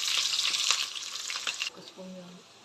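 Green chillies and onions frying in hot oil with spices for chicken biryani, a bright crackling sizzle with a few stirring scrapes that dies down partway, leaving quieter kitchen sounds and a faint tone.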